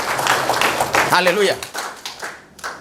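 A church congregation applauds and cheers for Jesus during an Indonesian-language sermon, with a dense clatter of claps beneath a preacher's loud, ringing voice.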